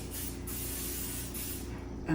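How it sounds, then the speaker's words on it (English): A continuous hissing spray from an aerosol can of cooking spray coating a baking pan, broken by a couple of brief pauses, close and fairly loud. "So I am going to just first spray my pan in just with cooking spray."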